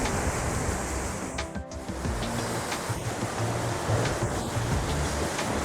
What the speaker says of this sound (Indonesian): ombak keras datang menghantam bebatuan karang ini